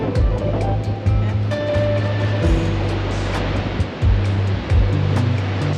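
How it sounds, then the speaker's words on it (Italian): Sea waves roll in on foggy cliffs at Cabo da Roca, Portugal, Europe's westernmost point, a loud continuous surging roar with repeated swells, plus low wind rumble. "Quanto basta per farvi vedere almeno un po' di mare, un po' di onde"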